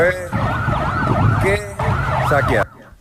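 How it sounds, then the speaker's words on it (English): Loud sirens wail in rapid up-and-down sweeps close by during a Venezuela blackout, with brief breaks between bursts, before cutting off abruptly. "And then when the sirens happen, people run away."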